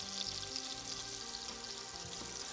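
Jumbo lobster tails and garlic frying in butter in a cast iron pan, a steady, faint, close hiss of sizzling fat with a crackly texture throughout and no voices.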